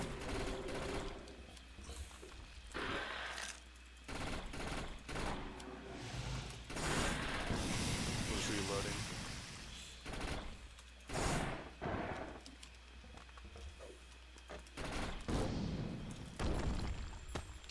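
Rapid bursts of automatic gunfire from the video game Defiance, fired in repeated volleys with short gaps between them, loud and close with mechanical clatter and occasional thuds.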